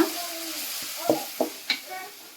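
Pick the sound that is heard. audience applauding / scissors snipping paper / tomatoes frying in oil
tomatoes frying in oil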